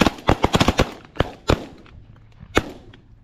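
Shotgun blasts ring out during a pigeon hunt, a rapid volley of about eight sharp close shots in the first second, followed by a few more spaced reports.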